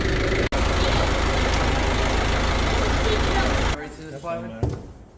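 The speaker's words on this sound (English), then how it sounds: "gonna hook some cables up to it now from the tractor, see if we can get her going" A small tractor engine runs steadily with a loud, low idling rumble after being jump-started from another tractor, cutting off abruptly near the end, followed by a few faint quieter sounds.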